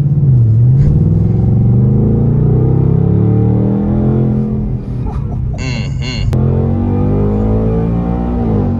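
A 2024 Ford Mustang GT engine rumbles loudly and close, revving steadily with the pitch rising and falling, and a brief high whine near the end; no talk is heard.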